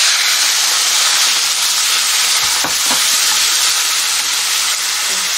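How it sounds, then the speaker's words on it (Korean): Fish cake stir-frying in a pan with a little water instead of oil gives a loud, steady steam hiss and sizzle that fills the scene, with a few brief stirring scrapes near the middle. "이거를 기름에 볶기 싫으시면 물을 조금 넣고 볶으시면 됩니다"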